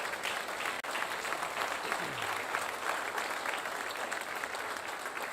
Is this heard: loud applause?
yes